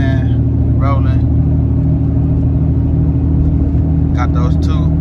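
A hot shot truck's engine drones loud and steady while pulling a 40-foot gooseneck trailer loaded with two strapped-down Harley motorcycles, with a voice briefly heard over the engine noise.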